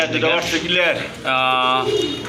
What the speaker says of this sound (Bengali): এখানে কিন্তু আরেক জোড়া কবুতর আছে